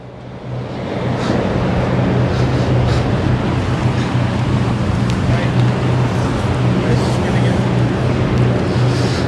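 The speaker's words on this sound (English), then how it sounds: "I didn't notice how gusty the wind was. And now I'm down near the water, of course, it's quite blustery." Strong wind buffets the microphone in a constant blustery roar, with a low droning hum underneath near the water on a summer day in Sydney, overlooking Luna Park.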